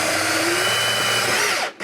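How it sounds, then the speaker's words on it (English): A power drill bores a small hole into an RV wall beside an inverter charger, a steady close motor whine that slows and cuts out near the end. "So I'm going to drill right here next to the inverter charger."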